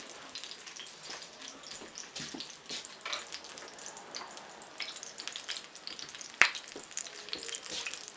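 Tofu sizzles in a pan with a continuous crackling hiss, broken by scattered pops and one sharp clatter near the end, and no voices are heard.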